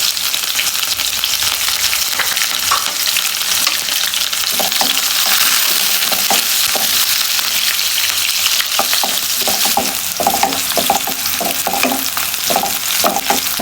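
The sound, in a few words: chopped garlic, onion and chili frying in a pan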